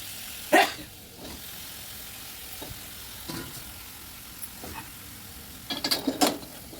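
Chopped eggplant frying in a pan, a steady soft sizzle broken by a few clattering stirs of a spoon against the pan, with a louder scraping flurry near the end.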